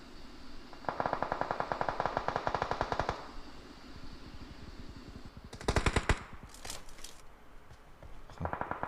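Rapid bursts of automatic gunfire in PUBG Mobile rattle out in quick succession, separated by short quiet pauses, with a few sharper single shots.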